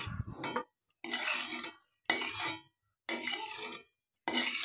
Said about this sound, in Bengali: আমি কড়া থেকে এবার এই মশলাগুলোকে নামিয়ে নিচ্ছি